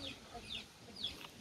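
Chickens wander a yard enclosed by wire mesh fencing, giving soft, distant clucks in a few short calls over a faint outdoor background.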